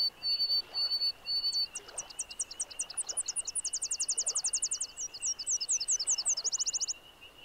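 Songbirds around a bay where Tennessee warblers and white-throated sparrows nest, a clear close bird song of rapid high trills and repeated chirped phrases over a quiet background.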